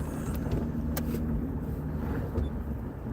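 Steady low rumble of a car driving, heard from inside the cabin as a continuous road and engine drone with a few faint clicks and knocks.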